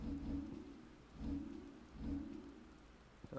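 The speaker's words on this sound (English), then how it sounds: "Ah man, it's a terrible day for rain." Steady rain falls in the Final Fantasy XVI game world, a broad hiss layered with low rumbling swells that rise and fade roughly every second, like distant thunder, with no voices over it.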